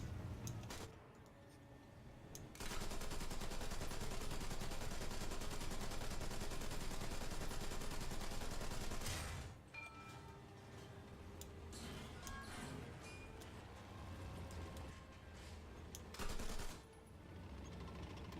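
Gunfire in the War Thunder combat game comes as a long dense burst of rapid automatic fire lasting several seconds, then scattered shots and rattling bursts with a busy game background.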